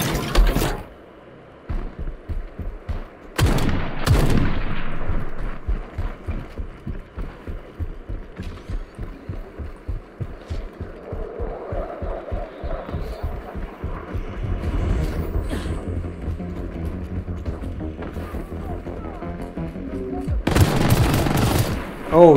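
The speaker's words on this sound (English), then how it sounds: "Maybe we're using the machine gun now." Rapid bursts of machine-gun fire in the shooter game Shatterline, a long run of evenly spaced shots with louder blasts near the start and end, close and dominant with no talk.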